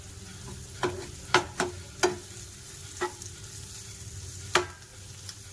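Chicken masala sizzling in a pan while a spoon stirs it, with several sharp scraping clinks at irregular intervals over a steady low hiss of frying, close and moderately loud.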